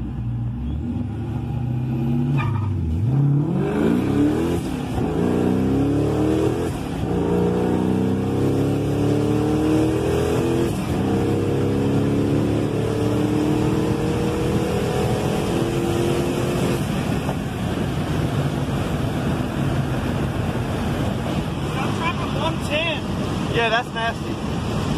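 A Procharged 2003 Ford Mustang GT with a 2V engine on drag slicks is brought up in revs and let back down several times, a loud, close engine roar with wind buffeting on the microphone and people talking over it.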